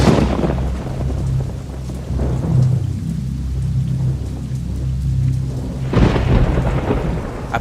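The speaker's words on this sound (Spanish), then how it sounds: "llovía en la ciudad de Guanajuato y los relámpagos y los truenos" A nighttime thunderstorm over the city of Guanajuato: steady heavy rain with deep rolling thunder rumbling throughout, swelling into louder crashes near the start and again toward the end, with no voices.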